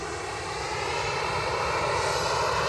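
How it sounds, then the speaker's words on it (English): At Edinburgh Airport, an airplane engine roars loud and steady, a broad continuous rush growing slightly stronger throughout, with no talking. "I'm talking against the noise of the plane, I've just realised."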